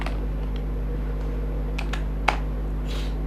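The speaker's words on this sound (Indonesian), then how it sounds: "kemudian saya coba mengetik ya" Typing on a computer keyboard: a few sparse, close key taps and one sharper click, set against a steady low electrical hum, with no speech.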